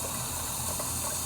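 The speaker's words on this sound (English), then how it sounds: "filling water" Water filling a self-irrigating plant pot, a steady hissing gush running continuously and close throughout.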